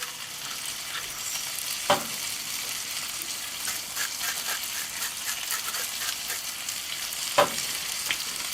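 White asparagus spears frying in a hot pan give a steady, moderately loud sizzle, with two sharper knocks of a utensil as they are stirred and no voices.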